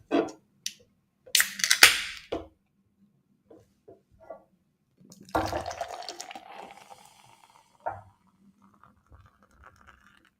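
A New England IPA is poured into a glass in short splashing bursts with a longer gushing, foaming pour in the middle, close and fairly quiet, with gaps of near silence between.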